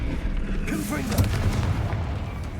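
Confringo fire spell blast in the video game Hogwarts Legacy, a loud booming burst with a sustained fiery roar and some rising whooshing tones, continuous and close.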